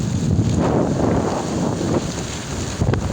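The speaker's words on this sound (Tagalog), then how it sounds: "Madilim ang panahon po at may bagyo." Strong, steady stormy wind roars across the open sea under dark skies, buffeting the microphone loudly and continuously with the rush of waves beneath, with no talking.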